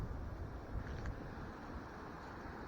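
Strong wind buffets the microphone in gusty roaring bursts after a high-wind storm in northwest Florida, a loud continuous rush that rises and dips over a few seconds.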